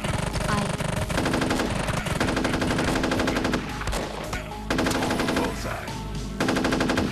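Rapid, sustained machine gun fire from a first-person shooter built in FPS Creator (Slipgate Demo), loud and dense with continuous bursts and short breaks, and no talk over it.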